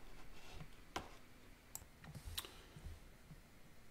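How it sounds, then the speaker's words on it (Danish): Scattered light key presses on a pocket calculator, a few sharp isolated clicks at an irregular pace, close and fairly quiet with no talking. "Og det taster vi alt sammen ind på lommeregneren."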